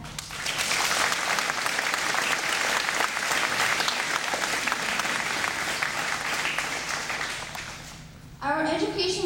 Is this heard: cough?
no